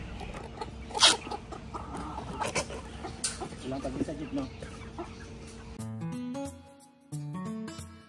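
Young three-month-old pullets cluck and fuss in a farm setting, a busy scatter of bird calls over background noise, with a person speaking near the end.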